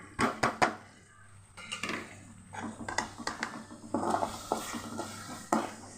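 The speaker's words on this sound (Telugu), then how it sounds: "అల్లం వెల్లుల్లి పచ్చివాసన పోయే వరకు వేగాలి" Ginger garlic paste fries with onions in a pan while a spatula scrapes and stirs, making clattering scrapes over a soft sizzle, close by and without speech.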